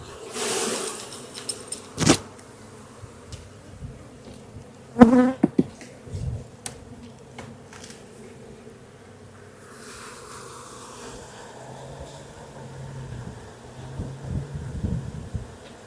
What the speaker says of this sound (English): I know there's a ton of bees in here